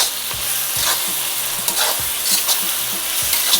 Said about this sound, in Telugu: ఈ టమోటాలంతా బాగా మెత్తగా మగ్గేంత వరకు వేసుకోవాలి